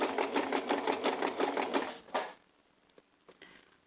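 A sewing machine runs in a fast, even burst of stitching while sewing gathering rows on a dress, then stops abruptly after about two seconds, leaving a few faint clicks and handling sounds.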